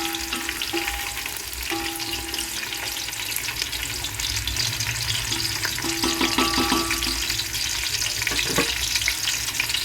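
Onions, cloves, cardamom and bay leaf fry in hot peanut oil for a large pulav, a loud, continuous crackling sizzle with occasional stirring scrapes throughout, no talking.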